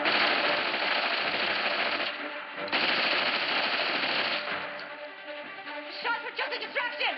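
Bursts of rapid automatic gunfire rattle through an action movie scene, loud and dense, with brief gaps between volleys and some mechanical clatter toward the end.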